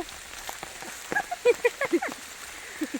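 Rain falling outdoors during a mushroom-gathering walk, a steady soft patter throughout with voices talking over it in the middle.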